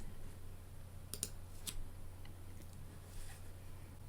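Computer mouse clicking while navigating a Mac Finder toolbar, a few quiet sharp clicks in the middle over a faint steady hum.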